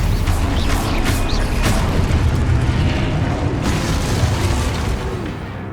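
A Stupefy spell cast during combat in Hogwarts Legacy, a loud sustained roar of magical blasts and booming impacts that stays dense and steady throughout.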